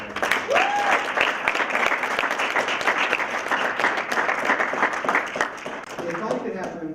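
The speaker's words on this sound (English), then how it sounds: "Can we have another round of applause?" Sustained applause from a crowd at a poetry recitation event, steady dense clapping throughout, with a few cheers and voices mixed in.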